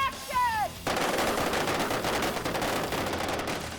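Prop weapons fire on an outdoor film set, a rapid burst of loud, sharp gunshots rattling out in quick succession after a brief moment of quiet.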